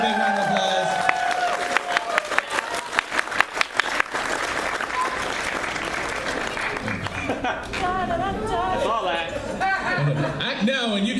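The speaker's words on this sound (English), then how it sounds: "Give her a big round of applause." Audience applause at a furry convention opening ceremony, honoring the guest of honor artist; steady clapping from a crowd that swells, then fades into chatter and scattered cheers, close and loud.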